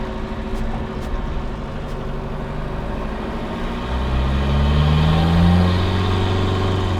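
A 1.9L ALH TDI diesel engine in a MK1 VW Rabbit drones loud and close, first at a steady rumble and then climbing in revs with a deeper, swelling note, and nobody speaks over it.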